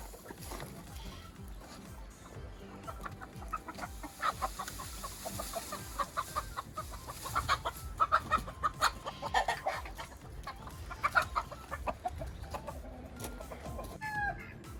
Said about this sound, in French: c'est des poules pondeuses basiques